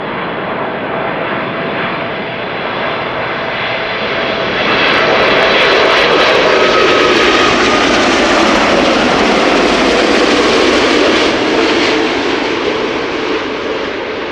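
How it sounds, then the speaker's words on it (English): A loud roar from a landing 11-year-old Boeing 787 freighter at Amsterdam Schiphol, swelling midway as the engines spool up into reverse thrust, with a steady broadband rush throughout. "Listen for the reversers. What a beautiful machine."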